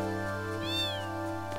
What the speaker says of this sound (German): Irgendwas war eben mit dieser Katze, die hat ein komisches Geräusch gemacht, so ein Klöckchen.